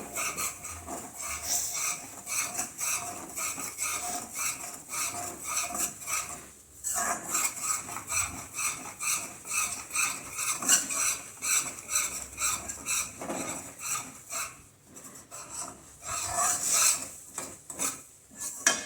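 Gram flour roasting with milk in a pan for besan halwa is stirred continuously, producing rhythmic scraping and rubbing of a spoon against the pan with light sizzling, close and steady with brief pauses.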